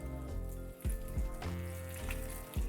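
Water is poured into a hot pan of pan-fried dumplings, bursting into several loud sizzling hisses that rise and fade in quick succession, close up with no talking.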